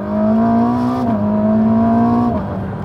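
A sports car with a new 8-speed gearbox powers out of a corner in third gear, its loud, close engine note climbing steadily with two brief dips where the pitch drops before rising again.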